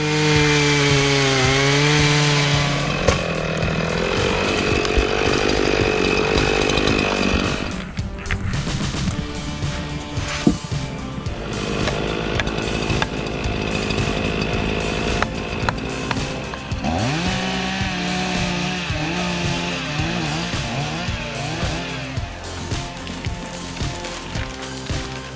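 Chainsaw cutting wood while felling a tree in a logging setting, the engine loud and continuous with repeated revving pitch swings and grinding bite through the timber, no voices.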